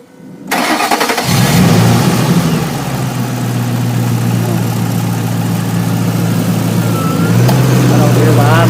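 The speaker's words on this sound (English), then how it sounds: "Let's get them to start this car up and let's see what it sounds like." A 2005 Ford Mustang GT cranks and fires up, then settles into a loud, steady, close idle that holds with a deep even rumble until the end.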